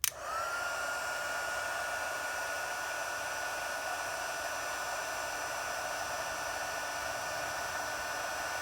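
A handheld heat tool blows hot air to melt embossing powder on a handmade birthday card. It starts abruptly, then holds a steady, even whirring hiss throughout, near and alone.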